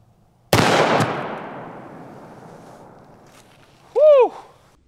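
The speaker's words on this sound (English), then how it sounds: "you could possibly call this the smallest handgun that will defeat 3A body armor" A 45-70 derringer pocket pistol fires a 405 grain bullet at body armor: one loud, close, sharp shot with a long fading echo and a quieter crack just after. Then a person lets out a short whoop.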